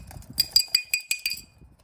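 Bearings clinking inside a T-Work's TT-052 bearing cleaner, about six bright metallic clinks in a quick, fairly even rhythm, close and fairly loud with quiet between them.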